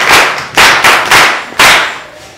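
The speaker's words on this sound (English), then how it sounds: "Beautiful, clap for her." Students clap for a classmate at a school, giving a few sharp, loud bursts of hand claps in quick uneven rhythm, close by, with short pauses between volleys.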